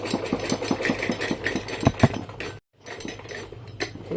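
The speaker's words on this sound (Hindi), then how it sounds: "इसके ऊपर आप इस तरह से सिलाई कीजिएगा" A sewing machine stitches along a pant belt in a fast, steady run of mechanical clatter that stops briefly and then starts again.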